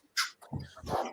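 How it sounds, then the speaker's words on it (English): A dog barks and yips three times in quick succession, short sharp bursts at moderate volume, fairly close, with no talk. "I gotta let Puppy out again"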